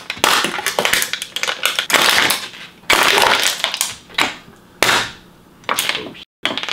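A handheld soda can compactor crushes aluminum cans in a series of sharp, loud crunches and metallic clanks, arriving in irregular bursts with short pauses between strokes.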